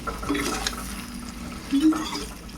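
A spoon scrapes and stirs a thick Indian olive pickle mixture in a metal pan, with soft clinks and a steady scraping rhythm up close.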